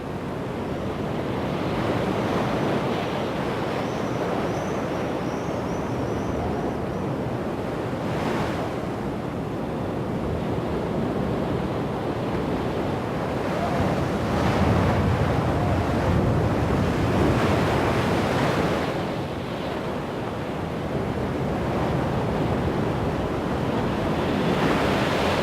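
Ocean waves surge against the cliffs of Java in a continuous heavy roar, with swelling crashes rising and falling every few seconds and steady wind rumble underneath, no voices.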